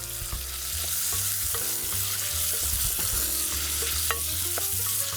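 Bacon, onions and peppers sizzle in a pot for a Creole-Caribbean black bean stew, a constant loud frying hiss broken by repeated stirring scrapes and clinks, close and continuous, with no talking.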